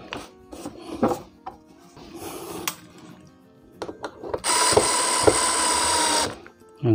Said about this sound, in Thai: นี่ตรงนี้มันตำแหน่งมันตรงกันอยู่แล้วนะครับก็ตำแหน่งด้านล่างนะครับ